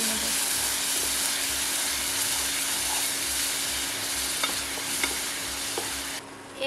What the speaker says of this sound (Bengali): তেলের মধ্যে মশলাটা দিয়ে দেবো, ভেজে রাখা মশলাটা, ভালোভাবে মশলাটা দিয়ে আরও একবার নাড়িয়ে নেব।